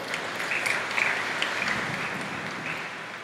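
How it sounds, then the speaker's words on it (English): A congregation at an annual altar servers' Thanksgiving Mass claps together in a steady round of applause, moderately loud and even, with no talk over it. "Give him a round of applause."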